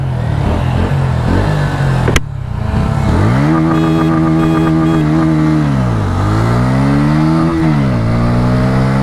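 A Bajaj Pulsar N150 or Honda X-Blade 160 motorcycle being ridden, its engine loud and close, revving up and down in rising and falling sweeps after a sharp knock, with no talk over it.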